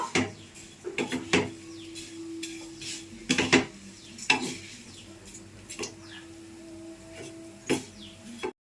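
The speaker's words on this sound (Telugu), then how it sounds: "ఇలా నెయ్యి వేసి వేపుతున్నాను" Ghee frying in a pan on a home stove: a soft sizzle beneath repeated clinks and scrapes of a utensil stirring against the pan, close and fairly quiet.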